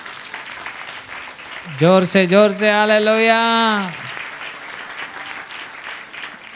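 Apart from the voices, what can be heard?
church congregation clapping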